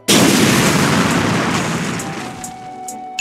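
A Fire Column flame attack from the Mera Mera fruit in Roblox Blox Fruits erupts in a loud whooshing burst, a sustained roaring blast that slowly fades over a few seconds, with faint pops near the end.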